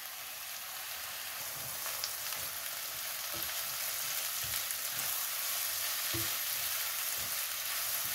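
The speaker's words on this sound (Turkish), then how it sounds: "Karıştırıp kızartalım." Mushrooms frying in a pan, a steady soft sizzle with occasional clicks and scrapes of stirring, fairly quiet and close, with no voices.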